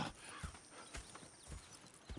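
Horses in the video game Red Dead Redemption 2 give quiet clip-clop hoofbeats in a loose rhythm, with a faint whinny, heard softly and at a distance.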